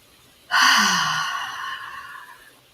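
One deep, slow meditative breath: a sudden full inhale or sighing exhale that starts sharply, then fades gradually over about two seconds, close and alone.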